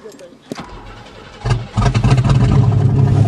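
Cold winter start of a 1990 Buick Century with the 3300 V6: a short cranking burst, then the engine catches and settles into a loud, steady idle that fills the rest of the moment, with some speech mixed in.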